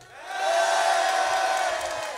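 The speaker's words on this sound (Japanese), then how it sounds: "では挙手と歓声でお願いします" A live audience at a beatbox battle championship roars with sustained cheering and shouting to vote for a competitor. The loud crowd noise swells quickly and holds steady to the end.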